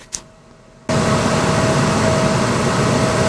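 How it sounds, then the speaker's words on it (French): Cooling fans of a VTOMAN FlashSpeed Pro 3600 power station spin up abruptly while charging at high power, a loud steady whooshing hum with a faint tonal whine, close and continuous. "à une telle puissance, les ventilateurs se font naturellement entendre"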